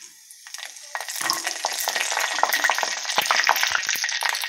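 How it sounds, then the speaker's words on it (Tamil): Mustard seeds, fenugreek and cumin crackle and sizzle in hot sesame oil for a brinjal kuzhambu, a close, continuous frying hiss with sharp pops that builds after the first second. "எண்ணெய் சூடாகிடுச்சு, கடுகு போட்டுக்கலாம், வெந்தயம்,"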